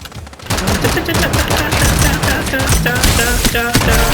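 Gunfire from the video game Strinova crackles as dense rapid bursts, loud and close, filling the whole stretch without a break.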